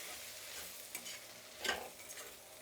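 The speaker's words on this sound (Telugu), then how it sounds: "ఇప్పుడు దీన్ని బాగా కలుపుకుందాము." A sambar spice mixture of chilli powder and coriander powder gets stirred in a pan, a soft continuous scraping and low sizzle with a couple of slightly louder strokes, faint and close, no voices.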